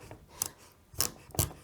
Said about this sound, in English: Butternut squash is actually very firm, so it's not easy to cut. That's why you need a big Chinese knife like this.